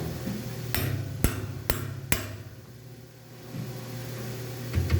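Four sharp hammer strikes on a plastic beehive frame clamped in a vise, three in quick succession and then a fourth, close and loud against a quiet room, with no voices.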